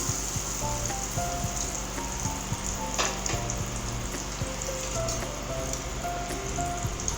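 Chicken cheese bread rolls sizzle steadily in hot oil in a frying pan, a continuous close crackle with scattered pops and no voices.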